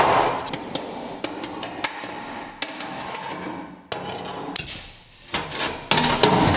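Welds on a car floor panel are beaten down with a hammer: sharp metallic strikes land at irregular intervals, close by, some in quick pairs, with a brief quieter pause before a final cluster of blows.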